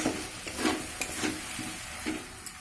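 Goat fat tadka sizzles steadily in a pan while a spoon stirs it, the scraping strokes repeating every half second or so over the continuous frying hiss, close and moderately loud.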